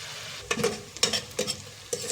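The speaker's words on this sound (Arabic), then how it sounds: "طبعا احنا مش هنحمر البصله قوي، انا ما بحبش احمر البصله قوي" Onion frying in a pan while spinach is being prepared, with a soft steady sizzle broken by several bursts of stirring scrapes. The sound is close and there is no talk.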